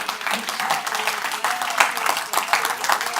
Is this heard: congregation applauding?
yes